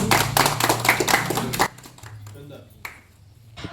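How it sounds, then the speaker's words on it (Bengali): Audience applause at the inauguration ceremony of a shop, Zen Traders: a dense burst of many hands clapping for about a second and a half, then it breaks off into quieter room noise with voices around. "একটু করতালির সহযোগে মুহূর্তটিকে আরো মোহনীয় করে তুলুন"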